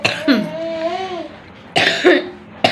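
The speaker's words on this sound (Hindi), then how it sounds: "खांसी आ गई।" A girl coughs several times in short bursts, close and loud, with a brief voiced sound between the coughs.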